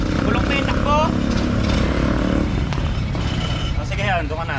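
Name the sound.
old Bajaj engine running rough, misfiring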